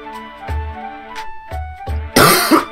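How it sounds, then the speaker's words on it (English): Several harsh, close coughs from a person, spaced about a second apart, followed by a louder burst of throat clearing, heard over faint game music. "this cough that I have"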